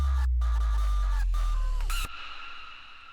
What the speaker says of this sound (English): So you already get a bit of a screechy sound.